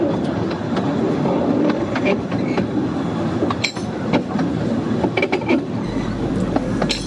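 A narrow gauge train on the Ravenglass & Eskdale Railway rolls along steadily on a wet day, with continuous rumbling and clattering wheels and occasional sharp metallic clinks and squeals throughout.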